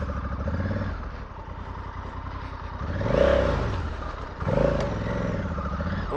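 A Honda Africa Twin motorcycle ridden off-road through boggy ground, its engine droning steadily, then revving up and down in two strong surges as the bike works through the mud, heard close.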